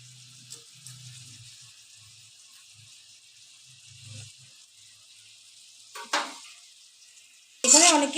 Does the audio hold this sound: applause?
no